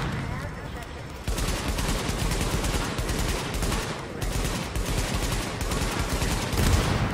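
Sustained gunfire in The Division video game, dense rapid shots forming a loud, continuous barrage that thickens after the first second, with game sounds layered throughout.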